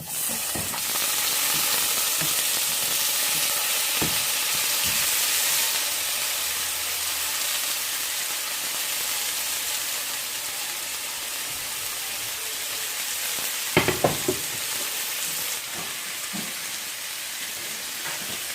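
Onions and tomatoes sauté in a hot pan, a steady broadband sizzle running throughout with a few sharp clicks of utensil stirring near the end, close and fairly loud, no talk.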